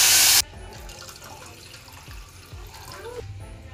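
Water pours from a cooking pot or jug into a pot of fried carrot, onion, ginger and garlic in ghee for soup pasta, a steady close splashing wash after a brief loud burst at the start.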